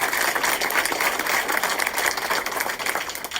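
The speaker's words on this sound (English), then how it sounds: "Give yourself a round of applause." An audience applauds, a dense steady wash of many hands clapping at once, fairly loud and sustained throughout.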